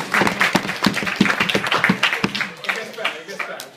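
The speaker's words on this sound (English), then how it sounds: "Pause for applause. Everyone applause!" Wedding guests clap through a speech in a dense, close burst of applause, individual hand claps audible at first and thinning out toward the end.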